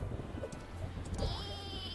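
Cartoonish sheep bleats from the sheep weapon in a Worms video game, short wavering calls rising over busy game sound effects and background noise, with a high tonal whine near the end.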